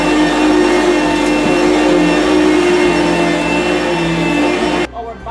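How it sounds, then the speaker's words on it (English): A vacuum cleaner runs on carpet in a rental house being cleaned, giving a loud, steady whine and roar close by that cuts off abruptly near the end. "And then you vacuum."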